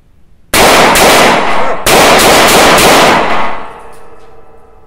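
Two loud gunshots from a Webley-Fosbery .455 semi-automatic revolver, about a second apart, each with a long ringing, reverberant tail that fades away.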